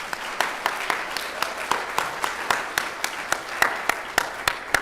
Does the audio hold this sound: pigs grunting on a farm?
no